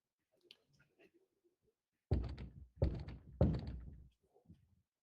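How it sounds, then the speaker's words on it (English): Three slow, heavy knocks land on a door, loud and evenly spaced, with faint murmuring voices before and after. "I like the 3 slow knocks"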